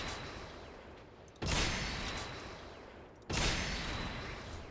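Sniper fire in the video game Gundam Evolution: two sharp, heavy shots spaced about two seconds apart, each followed by a decaying tail, over a low steady game background.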